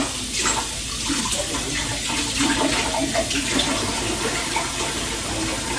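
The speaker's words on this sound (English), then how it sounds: "I'm gonna put a little water in the jar." Water poured into a jar while cooking stuffed peppers, a continuous splashing, gurgling flow heard alone at moderate loudness for several seconds.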